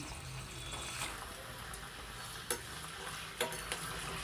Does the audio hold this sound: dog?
no